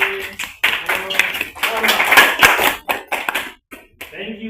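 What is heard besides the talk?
group clapping a rain clap for workshop participants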